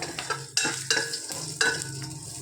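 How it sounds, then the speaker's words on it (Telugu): Garlic crackles in hot oil with a tempering of spices in a pan, while a spoon stirs and scrapes in quick, close strokes over a steady sizzle. "ఇందులోనే ఒక రెండు వెల్లుల్లి ఇవి కూడా వేసుకోండి కొంచెం చిరగొట్టి వేసుకోండి పోపు వేగింది కదా"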